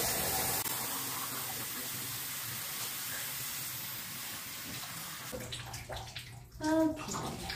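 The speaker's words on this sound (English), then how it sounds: "I basically rinsed my hair" Tap water running steadily as hair is rinsed, a continuous close hiss of flowing water that turns to uneven splashing and gurgling near the end.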